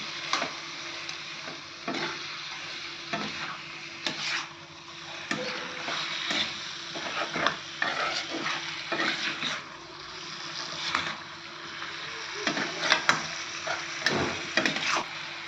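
Chicken fry with coconut paste cooking in a pan, stirred with repeated scraping strokes over a steady, fairly loud sizzle, no voices.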